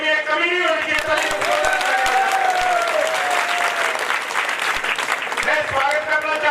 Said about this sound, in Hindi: भाई तालियों की रंगत में कमी नहीं होनी चाहिए।